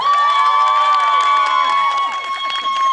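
An audience applauds and cheers at a children's contest in a folk culture centre, loud sustained clapping and shouts with children's voices, fading slightly toward the end.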